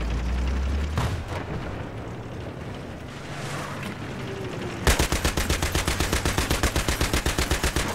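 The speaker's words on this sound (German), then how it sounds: "jetzt darf ich auch an das Geschütz hier" Mounted machine gun firing in the video game Battlefield 3, a loud rapid burst of evenly spaced heavy shots in the second half after rumbling battlefield noise and distant blasts.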